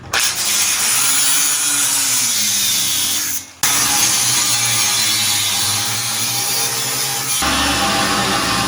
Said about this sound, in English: So I think a cutoff wheel is in order.